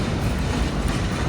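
A passenger train running between Marrakesh and Rabat in Morocco, heard from onboard as a steady, loud rumbling roar of wheels on track.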